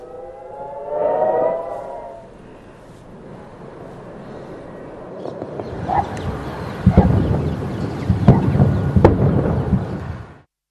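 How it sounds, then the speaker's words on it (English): Air raid sirens wail across Haifa, Israel during a rocket attack fired from Lebanon, a rising and falling tone heard from a distance, followed by a run of heavy booms and rumbling thuds from interceptions. "over 80 rockets were fired from Lebanon into northern Israel, triggering sirens across Haifa"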